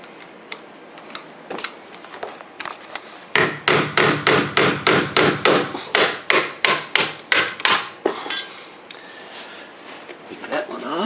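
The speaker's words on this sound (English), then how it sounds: "Take a screwdriver and pop these hinges off here." A screwdriver knocks the hinge pins out of a wooden door in a rapid series of about fifteen sharp, evenly spaced taps, loud and close, with quieter handling clatter before and after.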